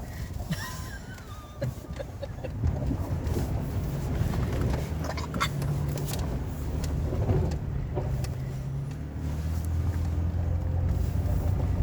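A four-wheel-drive vehicle rolls along a beach at low tide, its engine a steady close rumble with road and wind noise throughout, passengers briefly talking over it.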